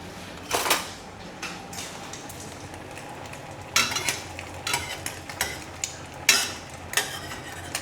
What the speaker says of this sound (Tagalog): Once mainit na yung pan, ilagay na natin yung egg.